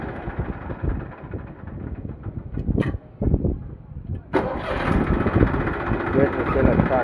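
Massey 241 tractor, a 2012 model, idles after a battery self-start, its steady low engine rumble continuing under the voices of people talking nearby.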